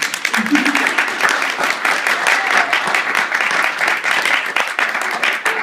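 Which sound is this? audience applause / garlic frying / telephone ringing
audience applause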